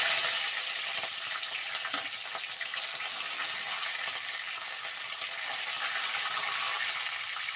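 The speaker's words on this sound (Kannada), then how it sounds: "ಮೆಣಸಿನಕಾಯಿ ಸ್ವಲ್ಪ ಫ್ರೈ ಆಗಿದೆ" Green chilies, chana dal and curry leaves frying in hot oil for a capsicum rice bath tempering, giving a steady, bright, dense sizzle that runs unbroken and close throughout.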